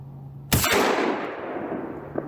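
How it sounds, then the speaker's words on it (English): A Maverick 12-gauge pump shotgun fires a single Score 2 3/4 inch 00 buckshot round outdoors, one loud close sharp blast followed by a decaying echo tail and a faint click near the end. "Now I've got the Maverick loaded with 5 rounds of this Score 12-gauge 2 3/4 inch"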